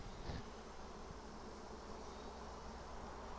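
A steady, dense buzzing of many bees in a hive box fills the air, soft and constant with no voices.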